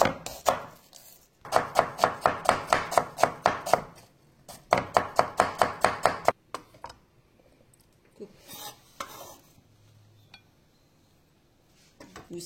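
A knife finely chopping pork for head cheese on a board gives fast, even, close knocks in two long bursts. A few scattered clinks and scrapes follow, then near quiet.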